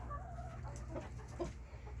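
Ornamental bantam chickens cluck softly at close range in a short, continuous burst of soft calls over a steady low background hum, with no talking.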